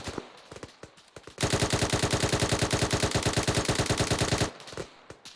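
Sustained suppressive automatic fire from an L85 rifle in a shooter game: one long, loud, evenly paced burst of rapid shots lasting about three seconds, framed by a few scattered single cracks before and after.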